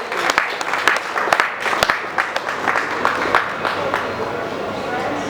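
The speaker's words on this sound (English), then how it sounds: "Let's give him a resounding applause as he comes to join us." Scattered clapping from a crowd at a print expo in Nigeria, irregular and fairly close, with some sharp individual claps standing out over a steady background patter.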